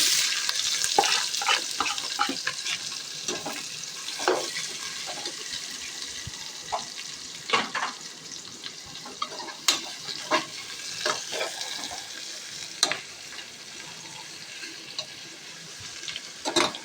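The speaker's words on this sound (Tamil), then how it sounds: "ஆனியன் நல்லா வதங்கணும், கோல்டன் கலரில் வரணும்." Onions sauté with green chillies in a pan for chicken biryani, a continuous hiss of frying punctuated by frequent scraping stirs of a spoon, close up, with no voices.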